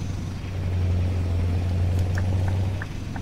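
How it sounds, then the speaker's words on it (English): Idling old Volvo truck engine fitted with an open pipe exhaust in Euro Truck Simulator 2, a steady low droning rumble held close and even throughout, with a few faint higher clicks near the end. "Man, I love the way this truck sounds, man."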